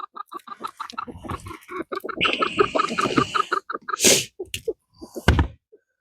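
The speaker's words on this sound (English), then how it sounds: "it's chicken laying an egg right now" A farm chicken laying an egg gives a run of close, loud clucks and squawks, followed by a couple of sharp thunks like a door or wooden box.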